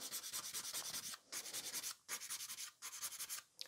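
A nail file rasps across a gel-style artificial nail to take down excess product. Close, rhythmic back-and-forth scratching comes in short runs separated by brief pauses, with no voices.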